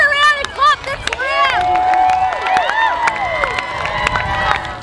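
A sports crowd of thousands cheers and shouts loudly at a match, a busy wash of voices with whoops and calls, with sharp claps and knocks scattered through it.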